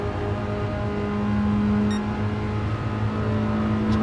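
An old-school BMW touring race car carries speed through a corner in classic championship practice, its engine a steady, loud sustained drone with a strong low hum, close and continuous with no voices.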